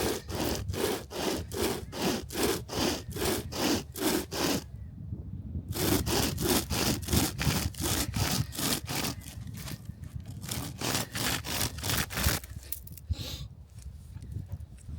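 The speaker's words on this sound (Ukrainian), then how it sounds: "Зручна пилка." A hand saw rasps steadily back and forth through wood in quick, even strokes, close up, with one brief pause partway through before the sawing resumes.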